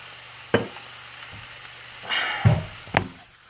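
Steak and onions cooked with Coke sizzle in a pan. Several sharp clanks and scrapes from stirring or the pan moving break through a low, steady frying hiss.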